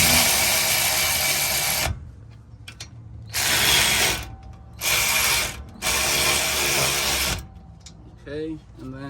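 A 3/8-inch ratchet works loose the tight brake bolts on a 2013-2017 Honda Accord, giving three long bursts of rapid, close clicking separated by pauses, with a brief voice near the end.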